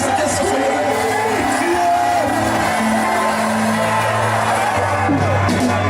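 A church congregation shouts and cries out together in a loud, continuous roar of many voices, with a voice rising above the crowd throughout.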